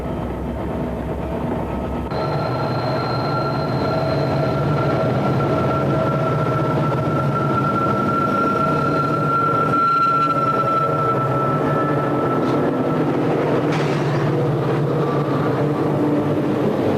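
A section of freight hauled by Norfolk & Western and Southern diesels thunders through Big Cut near Saluda, a loud continuous engine roar with a sustained tonal whine and rolling wheel rumble, close and building slightly.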